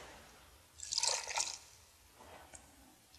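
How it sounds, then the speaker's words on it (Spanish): Water, about two cups, is poured into a cooking pot holding pumpkin, a short splashing burst near the middle followed by a faint trickle. "2 tazas de agua para que coloques en el interior"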